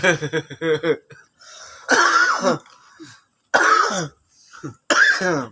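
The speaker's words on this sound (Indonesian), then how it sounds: "Batuknya masuk." Several harsh coughs and throat-clearing bursts come in separate clusters with quiet gaps between them, loud and close.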